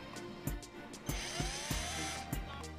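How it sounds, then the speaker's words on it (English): A power drill bores holes in scooter parts at home, with short bursts and sharp clicks and knocks repeating every half second or so against a steady whirring tone, close and fairly loud. "I'm done drilling holes"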